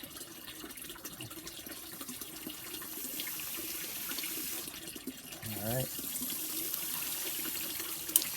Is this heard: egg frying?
no